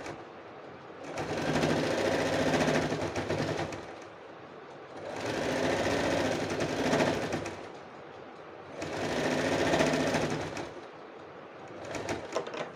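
A sewing machine stitches lace onto a blouse in three steady bursts of a few seconds each, separated by short pauses, close and fairly loud, with no talking.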